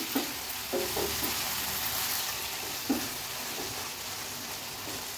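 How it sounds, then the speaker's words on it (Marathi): Soya chunks being stir-fried with salt over a high flame, a steady loud sizzle with occasional scraping clicks of a spatula against the pan, no voices. "पुन्हा एकदा हाय फ्लेमवरच ह्याला व्यवस्थित आपल्याला असं परतून घ्यायचंय।"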